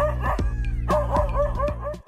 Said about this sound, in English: it unleashes a barrage of loud barks,